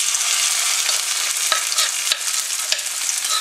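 Sauce with anchovies bubbles and simmers in a pan over medium heat. It gives a dense, steady sizzle with small pops and occasional sharper crackles, close and fairly loud, with no voices.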